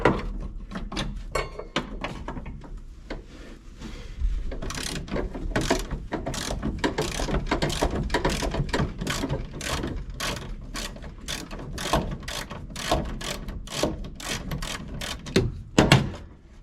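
Ratchet and wrench work removing nuts deep in the tight underside of a 1969 Dodge Charger, a long run of quick, irregular metallic clicks and clunks up close, with a few sharper knocks near the end.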